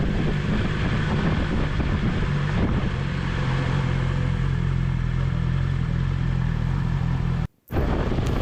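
A BMW S1000XR motorcycle is ridden, a steady engine drone mixed with wind rush over the microphone, continuous and close, with a brief dropout near the end.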